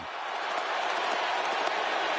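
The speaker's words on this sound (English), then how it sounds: "That's called cheering, not booing." A crowd cheers for Donald Trump's motorcade as a steady, broad roar of voices and clapping that swells slightly and stays at a distance.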